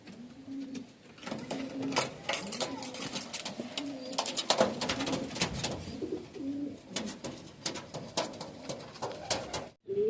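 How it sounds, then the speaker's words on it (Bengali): Andhra Kalanka pigeons coo in repeated low, rolling calls close by, steady through the clip with some scuffling and clicks in the background and no talking. "পায়রা দেখছেন, এই দেখুন পায়রা আছে"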